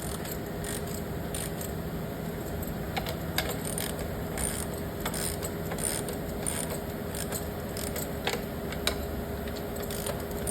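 A ratchet lightly running in spark plugs on a 2006-2012 Mitsubishi Galant 3.8 V6, giving repeated short bursts of quiet clicking pawl ticks, close by, in an otherwise still garage.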